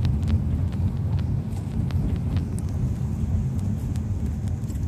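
A 2014 BMW 320i with a manual gearbox pulls away in second gear on a downhill slope, giving a steady low rumble of engine and road noise that holds at an even level throughout.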